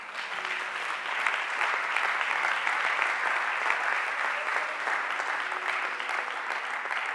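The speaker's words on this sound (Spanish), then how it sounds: "Den un aplauso bueno al Señor." Steady, dense applause from a large church congregation fills the whole stretch at an even level, with no break and no talk over it.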